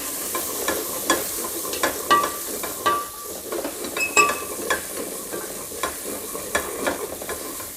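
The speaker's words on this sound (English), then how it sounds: "celery and carrot go in." Chopped celery and carrot sizzle in a hot pan for a Thai pumpkin coconut curry, a steady frying hiss broken by close, repeated scrapes of stirring.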